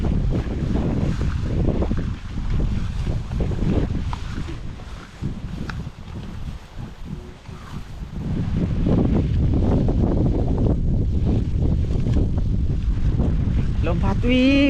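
Strong wind buffets the microphone outdoors near rice fields at harvest time, a loud continuous roar that dips briefly midway before surging back, with faint voices beneath.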